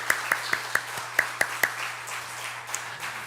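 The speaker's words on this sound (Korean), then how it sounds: "하나님께 감사의 박수를" A Sunday worship congregation in a Korean church gives a round of clapping, with a handful of distinct sharp claps standing out early before the sound softens into a fainter, thinner patter.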